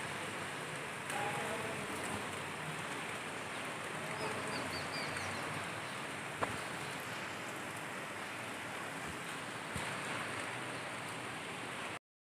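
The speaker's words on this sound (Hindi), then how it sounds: "थोड़ा थोड़ा बारिश हो रहा है" Steady patter of light early-morning rain hissing on surfaces and trees outdoors, continuous and even, with faint birdsong in the background and no talking.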